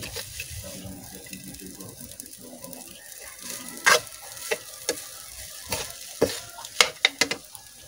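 Garlic fried rice (sinangag) and dried fish (tuyo) stir-frying in a pan, a steady sizzle with clattering utensil scrapes and taps growing sharper and more frequent toward the end.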